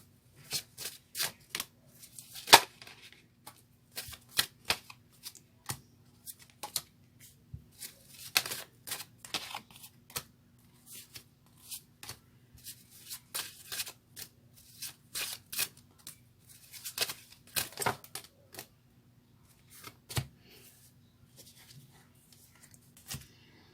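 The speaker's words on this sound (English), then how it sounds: "as I shuffle the cards" Tarot cards shuffled by hand in repeated short riffling bursts, each a crisp flurry of card edges separated by pauses, fairly quiet and close over nearly half a minute.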